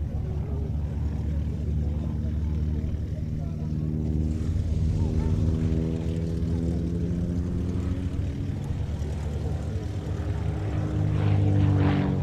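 Propeller aeroplane with a round radial engine up front, a steady droning hum with layered tones that holds loud and close throughout, swelling slightly near the end, while a voice talks over it.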